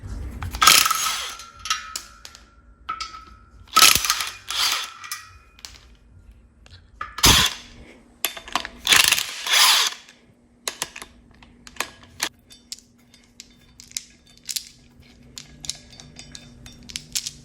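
Power tool at work removing the old flywheel, pressure plate and clutch from a Corvette C6 Z06 engine on a stand, heard as sharp bursts of whirring and rattling, close and loud, separated by quieter clicks and tool handling.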